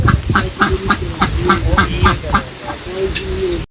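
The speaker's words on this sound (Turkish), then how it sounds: "Vay ördekler." Ducks quack loudly and repeatedly close by on a farm in a rapid, rhythmic chorus, with low background noise underneath.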